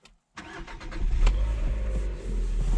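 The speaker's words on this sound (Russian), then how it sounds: "Запускаю двигатель." A 2020 LADA Vesta SW Cross engine starting, a quick cranking burst followed by a steady low idle rumble, heard close and alone.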